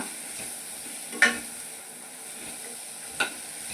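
Raw mango pickle is stirred through hot oil in a pan, a faint steady sizzle broken by two distinct spoon scrapes against the pan, close but quiet, with no talking.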